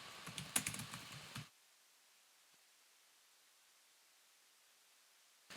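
A burst of rapid keystrokes on a computer keyboard while a password is entered, close and crisp for about a second and a half, then near silence with a faint hiss before another brief click.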